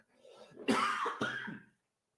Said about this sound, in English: that tiny cough just comes now from talking so much